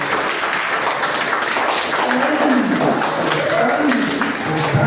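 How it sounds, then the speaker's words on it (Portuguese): A church congregation breaks into steady applause, a dense wash of many hands clapping that fills the room, with a preacher's voice carrying over it. "Um aplauso para nós que"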